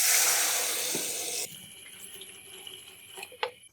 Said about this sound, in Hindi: अब हम इसमें 3 गिलास पानी ऐड करेंगे।